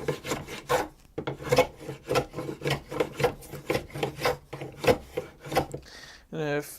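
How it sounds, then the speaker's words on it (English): A hand plane shaves rough wood from a tool handle clamped in a vise. Rhythmic rasping strokes, about a dozen in quick succession, sound close and fairly loud, ending with a short squeak. "I'll just tighten it to the point where I want it, and I'll start planing it down"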